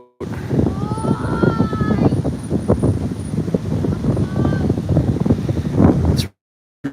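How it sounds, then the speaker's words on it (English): Strong wind buffets the microphone in steady roaring gusts along a riverside in Phnom Penh, Cambodia, with faint whistling tones and distant activity beneath, cutting off abruptly near the end. "It's really windy right now."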